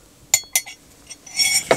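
A spoon clinks against a coffee mug in a few bright, separate taps, followed by a short scraping ring, close and clear in a quiet room.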